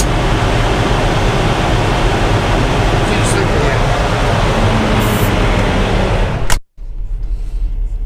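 A Freightliner truck's diesel engine roars loudly and steadily during regen mode, a dense broadband rush that cuts off abruptly near the end, leaving faint background noise.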